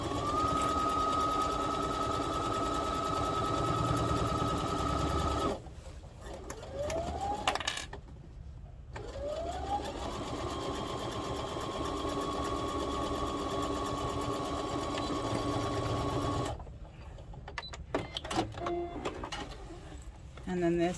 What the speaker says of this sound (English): we're just going to kind of backstitch over top of it, sew all the way down.